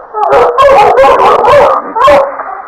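Dog howls and barks in a radio drama, loud, close and continuous, mixing long drawn-out howls with sharp yips and barks over nearly three seconds.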